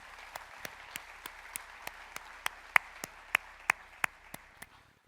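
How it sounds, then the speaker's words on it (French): At the opening speech of the JRA 2026 conference, slow, evenly spaced single claps ring out one after another in a steady rhythm, growing slightly louder midway over a quiet room. "Bravo à eux et un petit coup d'applaudissement"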